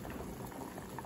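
Water at a steady rolling boil in a pot on the stove, set for blanching a yellowtail fish head, bubbling continuously and close by with no talking.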